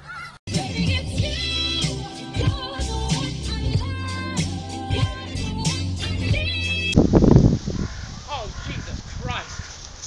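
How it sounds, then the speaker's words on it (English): Loud, raspy honking bird calls in the style of geese or fowl burst out near the end, following several seconds of music, with a voice also present. "Look at all those chickens."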